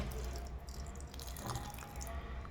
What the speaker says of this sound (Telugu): వాటర్ కొంచెం వేస్తే సరిపోద్ది ఆల్రెడీ తడి కాబట్టి లైట్గా మనకి వేరు దగ్గర వేస్తున్నాను